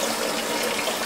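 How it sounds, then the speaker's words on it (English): Water gushes steadily into a pot of rice being washed in a home kitchen, a continuous close pouring rush with no speech. "So we gotta put water in."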